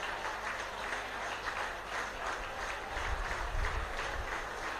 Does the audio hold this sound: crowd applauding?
yes